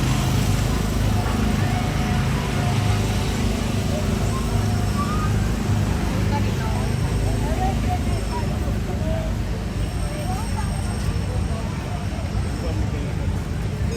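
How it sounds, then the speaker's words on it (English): Small gasoline-engine Autopia cars at Disneyland putter and drone steadily along the track, a continuous low engine rumble mixed with crowd chatter from the park, with people talking throughout. "they're not gonna sound like this anymore because they won't be running combustion engines"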